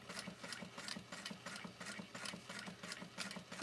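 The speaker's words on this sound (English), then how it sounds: "I secured my stitching at the top, and I'm just slowly going around" A sewing machine slowly stitches around a circle on a vanity bag, giving a steady, close, rhythmic mechanical whirr with evenly spaced pulses and no talking.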